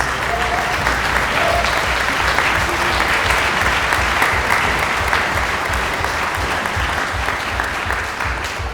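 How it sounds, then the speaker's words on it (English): Audience at a symphony orchestra concert event giving a sustained round of applause, thick continuous clapping with faint cheering, loud and steady before easing slightly at the end. "can you guys give Melanie a big round of applause for this?"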